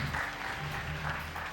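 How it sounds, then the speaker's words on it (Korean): Quiet, brief round of clapping from an audience thanking high school students after their mock criminal trial presentation, with faint murmuring underneath. "우리 친구들에게 수고했다고 박수 한번 보내줄까요?"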